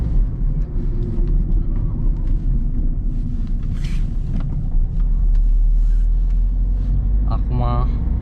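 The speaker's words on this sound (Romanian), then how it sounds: "mergem cu mașina. Motorul este rece." A 2006 Peugeot 207 1.6 HDi diesel with 90 hp drives with a cold engine, giving a steady low cabin rumble and road noise throughout, with some talk in the car.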